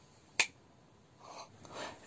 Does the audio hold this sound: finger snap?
yes